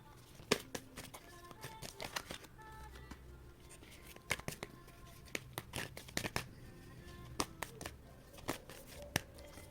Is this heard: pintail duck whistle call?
no